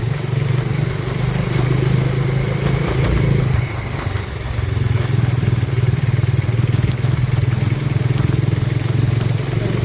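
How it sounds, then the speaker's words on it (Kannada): A motorbike rolls along a road near Chikmagalur, its steady mid-pitched engine drone loud and close, easing briefly around the middle before returning at full strength, with no talk. "ಬರೋದು ಒಂದು ಗಾಡಿ ಬರ್ತಾನೆ."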